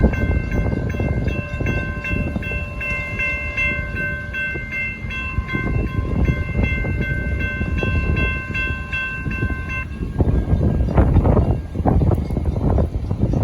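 CSX GP38-3 locomotive on the L791 street-running line through downtown Clearwater rolls slowly past a street crossing, with a steady engine rumble and the crossing bell ringing loud and near for about ten seconds before heavier rumbling takes over, with no horn.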